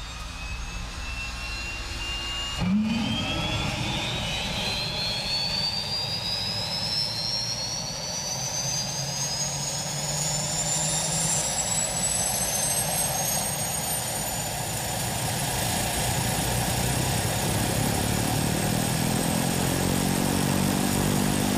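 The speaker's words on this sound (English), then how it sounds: "The Lancair 4PT is a high-performance aircraft" A Lancair IV-PT high-performance aircraft's turbine engine drones loud and steady with a rising whine that climbs in pitch as it spools up, after a sharp click near the start, with no voices.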